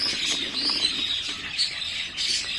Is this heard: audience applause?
no